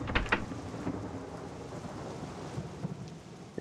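Rain and thunder in the video game Suikoden, a low thunder crack at the start, then steady, dense rainfall that continues alone at an even level.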